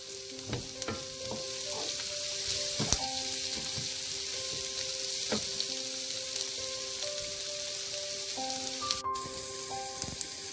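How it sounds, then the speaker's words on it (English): Curry leaves dropped into hot oil with ginger and garlic for an eggplant curry crackle and sizzle steadily, with sharp pops and occasional stirring clinks, close and alone without talk. "I'm going to add in the curry leaves"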